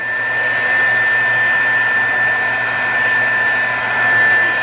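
A hair dryer blows steadily and loudly at close range over a Brusho painting, a constant whirring rush with a high-pitched whine that holds unchanged throughout.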